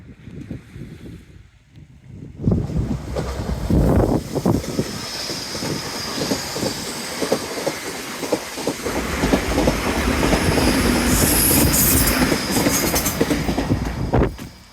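A train rolls past close by on a seawall line at Teignmouth in rain, its steady rumble and rhythmic clickety-clack of wheels building after a quieter start, with faint squeals near the end.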